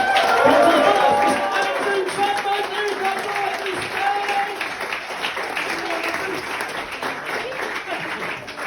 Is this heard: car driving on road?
no